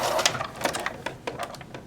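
A sewing machine stitches a straight pocket seam on a purse, giving a run of quick mechanical bursts and clicks with a few short pauses, heard up close.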